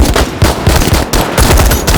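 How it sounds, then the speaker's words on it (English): Blank-fired machine guns rattle during a big gun battle on an action film set, with loud rapid bursts of automatic fire close by and a few brief gaps between volleys. "It's going to be a big gun battle with big bang bullety bullets going absolutely everywhere"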